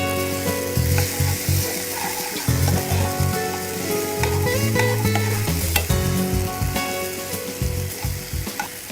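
Curry base with tomato frying in a pan, a steady loud sizzle with clattering stirring strokes and scraping throughout, no voices.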